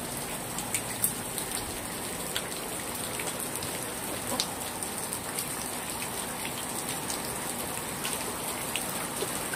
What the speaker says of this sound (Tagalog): Wala na yatang katapusan itong ulan na to.